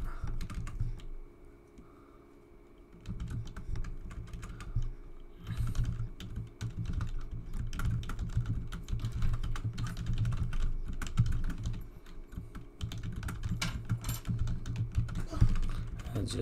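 Rapid clattering keystrokes on a computer keyboard, close and continuous after a brief pause, with a low hum underneath.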